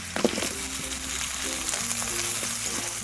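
Potato and carrot pieces stir-fry in hot oil for a chicken stew, a steady loud sizzle with scraping stirs throughout and no voices.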